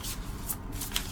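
Cards from an oracle deck being shuffled, a soft continuous riffling and rustling at close range with no voice over it.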